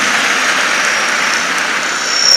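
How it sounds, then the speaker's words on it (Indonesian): An audience applauds for a student named Jundullah at a boarding school gathering, a steady dense clapping from a crowd that holds throughout and swells slightly at the end. "Beri tepuk tangan buat Jundullah"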